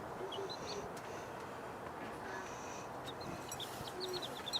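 Small pet birds, pink and blue, chirping softly indoors, a scatter of faint high peeps and coos over a noisy room background.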